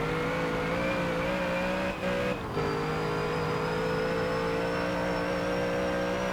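A race car engine holds a loud, steady high drone on the long Mulsanne straight in the Forza Motorsport 7 video game, with a brief dip as it shifts gear before pulling on at high revs.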